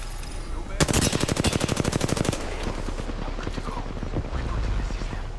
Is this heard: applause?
no